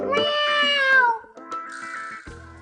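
A cat meows in two drawn-out calls, the first loud and rising then falling, the second softer, close by in a room during a comedy sitcom scene.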